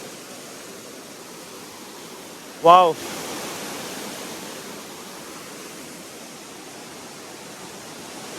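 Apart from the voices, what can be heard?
water pouring down from above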